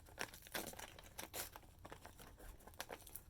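Tearaway embroidery stabilizer is ripped from around a machine-embroidered monogram charm, giving quiet, quick papery tearing and crinkling in several short bursts with no speech.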